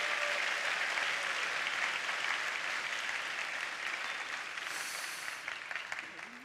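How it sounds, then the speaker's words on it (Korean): A church congregation at a summer camp evening service gives a big round of applause, sustained clapping that gradually thins toward the end. "우리 서로를 위해서 다시 한번 큰 박수를 함께 나누겠습니다."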